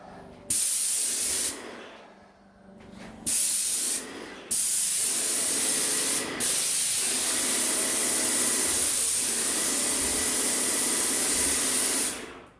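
A Wagner CP 350 Extra spray gun hissing loudly as it lays down a sealer coat, several short close bursts followed by a long continuous spray, with no talking.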